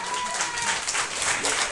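An audience at the Théâtre de Poche in Béthune applauds to welcome the band. The clapping is steady, dense and continuous, with voices mixed in.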